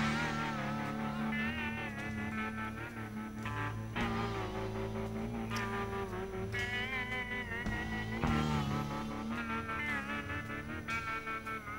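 A homemade pressed plastic record plays back with slightly distorted, warbling tones, a continuous tonal passage with shifting harmonic notes at moderate volume and no talking.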